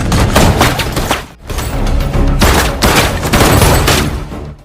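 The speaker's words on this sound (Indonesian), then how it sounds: "berujung pada baku tembak dengan Tom" A loud, dense exchange of gunfire in a film bank-robbery scene, with repeated shots layered into sustained roaring bursts and one brief lull in the middle.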